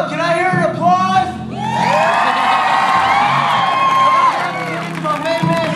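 An audience cheers at a school talent show. Voices, including children's, shout and whoop over a loud, sustained crowd roar that swells in the middle and eases slightly at the end.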